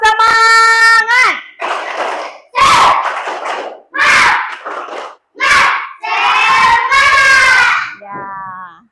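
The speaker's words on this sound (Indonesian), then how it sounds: "mari kita dulu tepuk semangat" A group of schoolchildren in a classroom perform a tepuk semangat clapping chant, shouting loud rhythmic bursts in unison, close and energetic, with short pauses between phrases.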